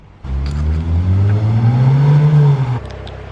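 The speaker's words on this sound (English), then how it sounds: "It's just a very clean exhaust." A Jaguar F-Pace S with a new exhaust revs hard, a close, loud engine roar climbing steadily in pitch for a couple of seconds before cutting back abruptly to a lower idle.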